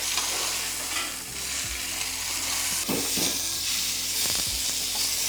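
Beef searing in a hot preheated pan, a loud continuous sizzle and hiss with a few bumps and scrapes of the meat being moved, close up and without talk.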